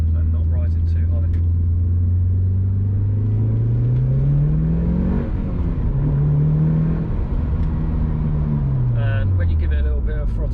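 A Mitsubishi Evo IX FQ360 with an HKS setup idles, then its engine is given light throttle blips, close and loud. The pitch rises and falls smoothly twice over a constant rumble.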